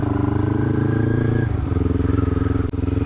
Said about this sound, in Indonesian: Sekarang motor gue udah nyala, udah normal kayak biasa